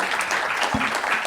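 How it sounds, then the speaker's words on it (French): An audience claps for a professor after a talk, a brief, even patter of applause with a faint voice under it. "Je crois qu'on peut vous applaudir."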